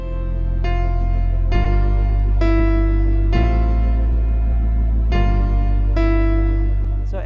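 Piano chords for a song ring out as a sustained bass note held beneath a series of about seven chord changes, played at a slow, even pace. The sound is close and clear, with a faint voice near the end.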